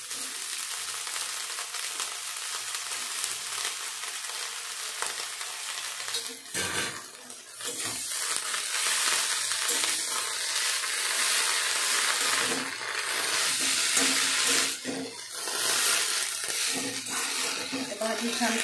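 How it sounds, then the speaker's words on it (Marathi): Tender chickpea leaves with coarse garlic-chili paste sizzle and hiss steadily in a pan over medium heat, with occasional stirring scrapes and someone speaking over the cooking throughout. "भाजी छान परतून घेते मी। मीडियम गॅसवर भाजी छान परतून घेऊ"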